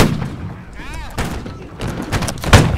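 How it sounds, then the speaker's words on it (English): Musket gunfire in the multiplayer game Holdfast: Nations at War, several sharp cracks and booms across a short stretch, the loudest near the end, with players talking in between. "Oh, that gunshot."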